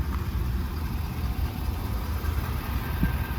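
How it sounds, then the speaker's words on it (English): A recreational vehicle's engine idles steadily at an infield campground at Charlotte Motor Speedway as it backs up, a continuous low rumble at moderate level with no talk. "I'm gonna back up the RV even here"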